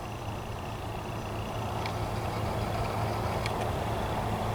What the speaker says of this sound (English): There's the tractor coming out.